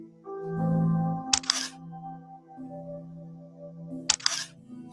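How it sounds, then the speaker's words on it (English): Two sharp artificial camera shutter clicks, one near the start and one later, each a brief bright burst over a soft sustained musical tone. "we don't need the fake shutter click there"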